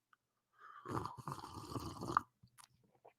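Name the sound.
loud slurping sound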